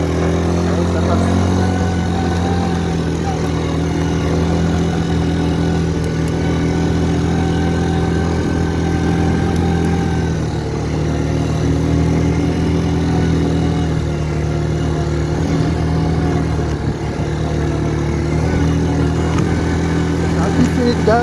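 Kymco MXU 150 quad engine running steadily on a rutted track with a light throttle, a continuous droning mid-pitched hum with faint variations throughout, loud and close.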